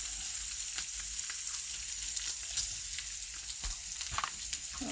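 Onions sizzle steadily in a hot pan, a continuous bright crackle and hiss with small pops, close by and with no one talking.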